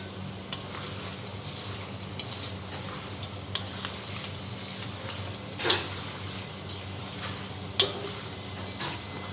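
Beef karahi sizzles loudly in a pot over very high heat while a utensil stirs it, giving a steady frying hiss with sharp scrapes and clinks against the metal, two of them standing out strongly.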